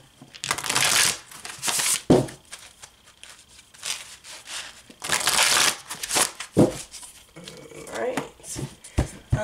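Playing cards are shuffled several times in quick riffling bursts, crisp and close, with a person talking between them.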